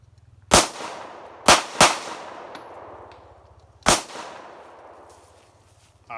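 A GSG .22LR rifle loaded with CCI ammunition fires several loud, sharp shots at uneven intervals, each bang trailing off into a ringing decay, with no talking.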